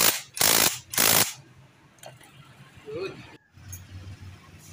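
A nut is tightened onto the magneto of a Honda PCX 160 scooter engine during an overhaul: two loud, close ratcheting bursts, then quieter metallic clinks and handling noises.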